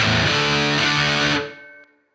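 Electric guitar through a Boss DS-1 distortion pedal rings out in a thick, fuzzy sustained chord, then is abruptly muted, leaving a brief decaying tail and a tiny click.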